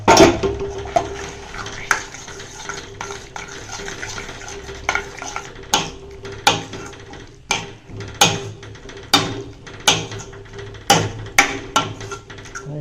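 Cooked, mashed moong dal is added to softened tomatoes in a pan for dal gravy, followed by repeated stirring: a spoon scrapes and knocks against the pan in a steady series of close, clattering strokes over a low sizzle.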